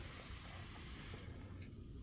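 Steady, broad hiss of a steam cleaner pressed through a towel onto a carpet stain, fairly loud and close, thinning slightly near the end, with no voices.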